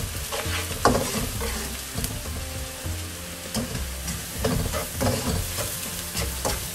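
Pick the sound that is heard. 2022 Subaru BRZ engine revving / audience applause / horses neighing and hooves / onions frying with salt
onions frying with salt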